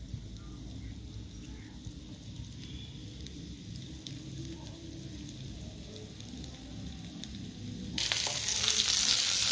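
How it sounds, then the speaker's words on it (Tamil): Vadagam fries in hot oil in a kadai, a steady close crackling sizzle that suddenly grows louder and brighter near the end, with no voices. "கடையில் எண்ணெய் ஊற்றி நல்லா வடகத்தை நல்லா பொரியட்டும்"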